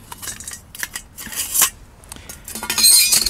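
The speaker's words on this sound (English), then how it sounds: "let me assemble the stove first" Metal parts of a Lixada tower stove clink and scrape together during assembly, close and bright, in irregular bursts of rattling with short gaps and a busier cluster of clanks at the end.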